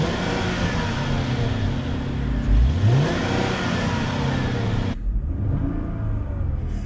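A 2003 Mercedes-Benz E320 (W211) with its 3.2-liter V6 revs up loudly and close by, climbing in pitch, easing back, then rising again before cutting off sharply near the end.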